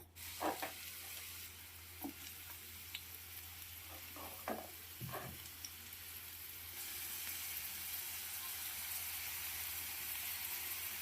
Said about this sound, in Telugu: అందులో కొంచెం వేడయ్యాక ఆనియన్స్ వేసుకుందాం